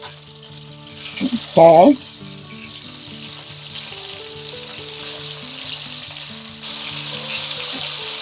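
Chicken frying in a pan for coq au vin sizzles and crackles steadily, briefly drowned out by a spoken word and a clatter as the pieces are turned.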